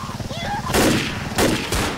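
An assault rifle in Left 4 Dead fires a couple of short, loud bursts over about two seconds, with game noise underneath.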